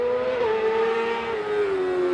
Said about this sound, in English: It's a Honda F2 with a 600cc engine